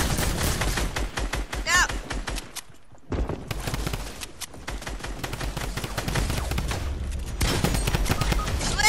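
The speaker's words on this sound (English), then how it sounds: "Assault rifle. So this is the scar." SCAR assault rifle fire in a multiplayer shooter game, loud rapid bursts and volleys filling most of the stretch with a short lull near the middle, while a player shouts a warning over the shooting.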